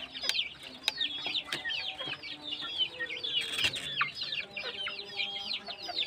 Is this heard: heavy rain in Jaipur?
no